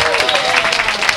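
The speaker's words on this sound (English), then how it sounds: "Let's give them a round of applause." An audience at Club Karu in Fort Lauderdale claps together in a brief burst of steady applause, with dense overlapping claps and a faint voice underneath.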